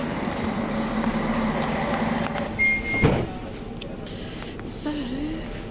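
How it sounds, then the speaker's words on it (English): A train rumbles in nearby with a steady low roar, a brief metallic squeal of wheels, and a voice speaking over the noise. "The train is here."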